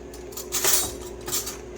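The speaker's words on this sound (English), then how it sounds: "So I just use my KitchenAid, and I put my whisk" A metal whisk attachment is fitted onto a KitchenAid stand mixer with a few light metallic clinks and taps. The sounds are quiet and close, with no talking.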